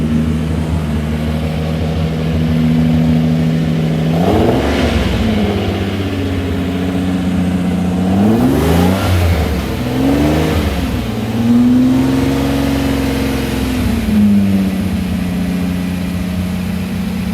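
A sports car engine, a Lamborghini Countach or 427 Corvette, idles with a deep, steady hum, then revs up sharply several times, each rise and fall of the motor loud and close.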